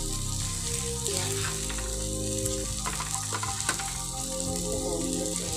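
Food frying in a pan with a steady, close sizzle and occasional stirring clatter, no talk.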